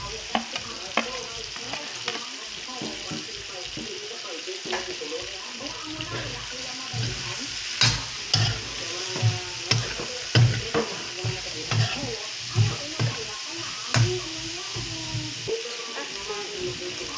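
Carrots are stir-fried in a pan with a constant sizzle and rhythmic scraping and stirring. The clatter grows louder midway, and faint voices sit in the background.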